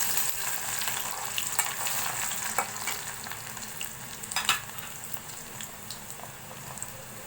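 Garlic is added to red chilies frying in hot oil, producing a loud, crackling sizzle with bursts of popping and stirring clatter, close up and without any talk.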